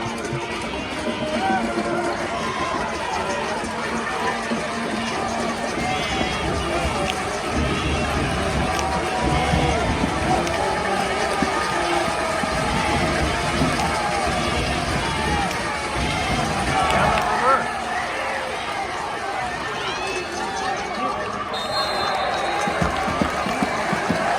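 Steady roar of a high school football crowd at a Texas area championship game, Steele against Round Rock, with cheering and crowd noise filling the stadium throughout, a few sharper shouts rising above the dense ongoing din.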